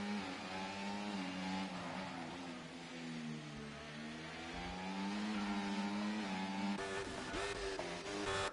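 Racing cars in a video game race at Baku, including an Aston Martin, drone through a steady, rising and falling engine whine, with layered harmonic revs and a sharper pass near the end.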